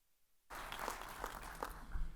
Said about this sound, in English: let's just give her a round of applause